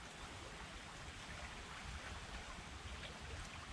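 Stream water at Alderman's Ford Park in Plant City, Florida, flows in a continuous, faint, even rush with no breaks.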